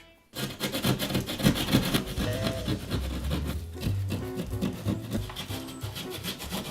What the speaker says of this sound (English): Now we'll take a saw, the drywall saw, and we'll just cut this out